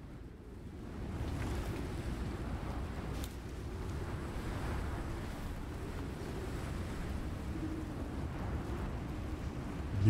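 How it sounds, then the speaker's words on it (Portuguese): Strong, roaring wind sweeps across an open jungle landscape in the survival video game Icarus, a continuous whooshing rush that swells slightly and holds steady for several seconds, with no one speaking. "tá dando um vento muito louco aí"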